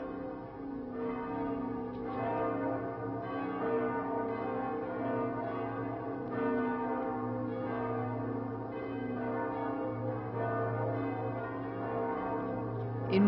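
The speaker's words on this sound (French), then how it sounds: "C'est ce que nous disent ces cloches." Church bells ringing in Toledo, Spain, a repeated, layered peal of bells heard at a moderate distance, sounding steadily without pause.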